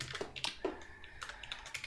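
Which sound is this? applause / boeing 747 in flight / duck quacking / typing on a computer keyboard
typing on a computer keyboard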